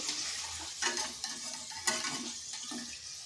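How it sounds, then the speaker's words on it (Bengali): Snack pieces fry in hot oil for a quick homemade breakfast treat, giving a steady close sizzle with occasional stirring and scraping bursts and no talking. "এইভাবে আমি সবগুলো ভেজে নিচ্ছি"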